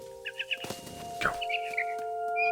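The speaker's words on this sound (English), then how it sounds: "I tried to be quiet, but the bird was really scared." Small bird chirps in the narrative game What Remains of Edith Finch, a few quick, bright tweets then scattered calls, heard over a steady hum of game ambience, moderately close, with a soft thump in the middle.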